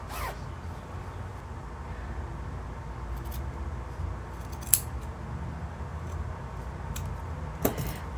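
Scissors snip through the thick fabric seam allowance of a sewn skirt, with a few quiet, close cuts spaced apart against a soft room background.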